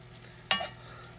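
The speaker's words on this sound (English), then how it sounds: "Okay, I'm going to stir these up." A single quick scrape of stirring food in a pan, likely a grain and rice mix, sounds as one short close burst against a quiet kitchen hum.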